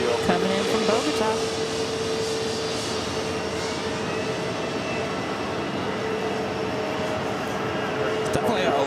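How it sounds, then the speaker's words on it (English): An Avianca Airbus A320neo arriving from Bogota passes close at JFK, its steady loud engine roar filling the air throughout, with a faint tonal whine riding on top. "It's definitely the loudest A320 Neo I think we've heard."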